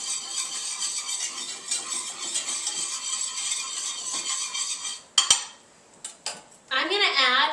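Silicone tongs scraping a pan to lift browned bits left from pepper-crusted steak for a sauce, with a steady close scraping sizzle, then sharp clanks and a brief rattle before the scraping resumes.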